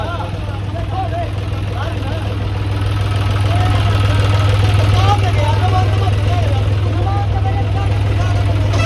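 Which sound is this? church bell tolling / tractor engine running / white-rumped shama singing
tractor engine running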